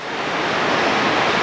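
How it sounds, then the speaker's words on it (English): Wind and pouring rain outside, a steady broadband rushing hiss that swells slightly and holds at a constant loud level, with no voices. "Oh, it's raining outside. Yeah. Oh, pouring down."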